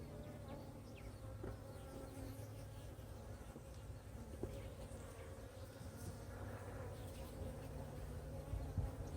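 Bees from a repeatedly swarming colony hum continuously around hive frames, a steady close buzz with occasional faint knocks and handling sounds, no talking.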